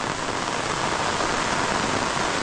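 Heavy rain pours down steadily over a planting field during the rainy season, a dense, loud, unbroken hiss close by with no voices.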